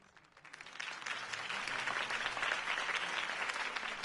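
Crowd applause swells up and holds as a dense, steady clapping roar after Harvey Dent's campaign speech in a Batman video game, heard alone at moderate distance.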